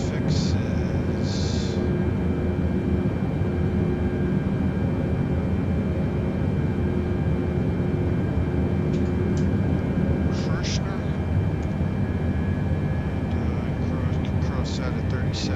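Boeing 747-8 airliner in Microsoft Flight Simulator, flying an RNAV approach to runway 27 at San Diego, gives a steady, loud cabin engine drone throughout, with brief higher cockpit sounds and someone talking over it.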